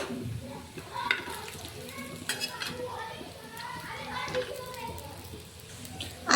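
Sesame coriander vadi frying in oil in a pan, a steady soft sizzle with occasional clinks and scrapes as pieces are turned, under a voice talking.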